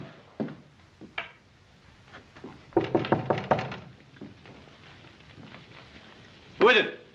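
A brisk series of knocks on a wooden door in a Western television drama comes after faint scattered thumps, then a voice briefly calls out.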